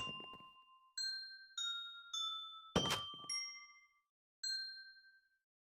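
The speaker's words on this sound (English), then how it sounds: "Oh, by the way, I installed a new doorbell." A newly installed doorbell rings out a clear, bright chime melody of about seven ringing tones, each decaying slowly, with a brief clatter midway and silence between the notes; no one speaks.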